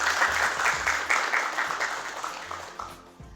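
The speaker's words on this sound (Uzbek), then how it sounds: "Marhamat, birinchi ishtirokchimiz Mansurbek Abdurimov uchun qarsaklaringiz." A studio audience claps for the first contestant on a television show, a dense, close burst of applause that slowly thins and fades toward the end.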